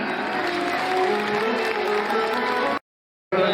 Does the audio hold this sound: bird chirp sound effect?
no